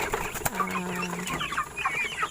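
Broiler chickens clucking and murmuring nearby on a farm, with a short sustained call in the middle and scattered bird noises around it.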